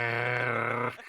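A person imitates an angry dog with one sustained, rough voiced growl lasting about a second, close and steady before cutting off abruptly.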